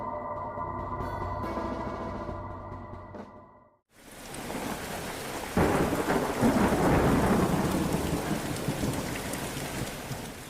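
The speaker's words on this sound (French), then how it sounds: "Ce jour-là, la pluie tombait fort." Heavy rain pours onto village cobblestones during a thunderstorm, a dense hiss that swells suddenly into a loud rumbling roar of thunder midway and keeps going strong to the end.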